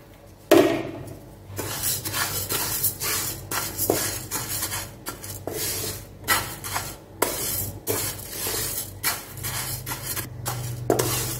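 Green gram (moong dal) being dry roasted in a pan for pongal, with repeated scraping and clinking of a spoon against the metal pan in an irregular rhythm and dry grains rattling close by.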